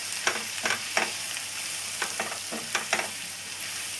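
Chicken masala sizzling in a pan while a spoon stirs it, a steady close fry with soft scraping strokes at irregular intervals.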